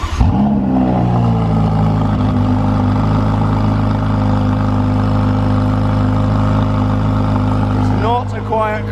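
A Ferrari 488 Pista engine fires up with a sharp bark, then settles into a loud, deep idle with low droning harmonics, and a brief rev near the end, recorded close by.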